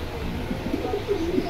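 Pigeons coo at the Jinjira Bazar pigeon market, soft repeated low calls rising over a steady murmur of crowd and background noise.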